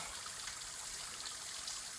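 A small mountain waterfall on Old Speck Mountain in Maine trickles and splashes in a steady, close, continuous rush of water with no other sounds.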